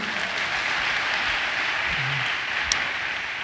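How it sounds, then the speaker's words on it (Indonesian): A church congregation at a closing worship session claps together in a steady, dense wash of applause that holds evenly throughout. "Tepuk tangan buat Tuhan."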